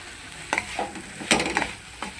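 Bean pods roast on a tawa griddle, producing a low sizzle broken by several sharp scraping and turning strokes of a spatula, close and moderately loud, with no voices.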